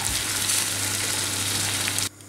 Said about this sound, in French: je fais colorer tout ça à feu vif pendant 5 minutes jusqu'à réduction complète de la sauce